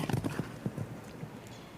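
Horse hooves clip-clopping on the course during a five-star international show jumping round at Spruce Meadows, with a quick, uneven run of thuds heard fairly close against steady arena ambience.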